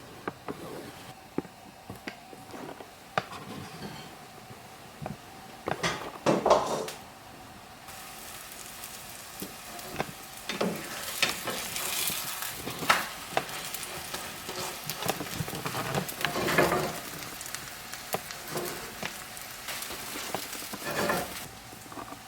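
A Chinese pancake cooking in a lidded pan gives a low steady sizzle with intermittent scrapes and clatters of the lid and utensil, quiet and close, without talking.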